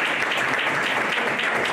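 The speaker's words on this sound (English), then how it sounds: "Can we give them a round of applause?" Audience at a money week debate event applauds, dense steady clapping from a crowd filling the room without a break.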